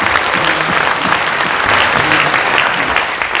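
A church congregation at a missions conference breaks into steady, dense applause that fills the room, loud and close throughout with a faint murmur of voices underneath.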